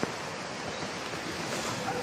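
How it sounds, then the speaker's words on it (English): Sea waves wash steadily onto the shore in a continuous soft roar, mixed with wind buffeting the microphone, with no voices. "We made it to the sea."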